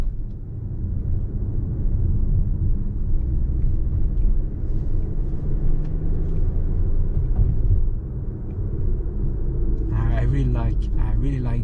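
Audi Q3 cabin while driving: a low, steady engine and road rumble hums quietly underneath, with a person talking over it toward the end.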